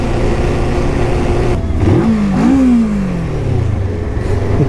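A Kawasaki motorcycle on a mountain road in Veneto accelerates, its engine note climbing sharply in pitch through a gear, dipping and rising again before settling into a steady drone, loud and close.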